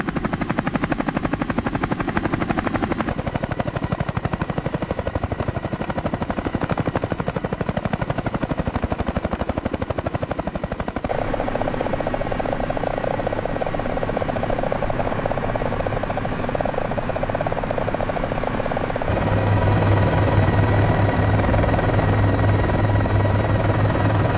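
A rescue helicopter lifts off with a slung load, its rotor and engine roaring loud and continuous throughout, the pitch and tone shifting as it rises.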